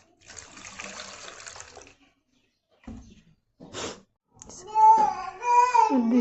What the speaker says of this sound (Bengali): তারপর অল্প একটু পানি দিব